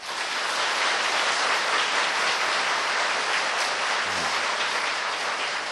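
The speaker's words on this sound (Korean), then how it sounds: "감사합니다라고 한번 박수 한번 쳐보세요." A church congregation claps together in loud, dense applause at a revival event, a continuous wash of hands with no talking on top.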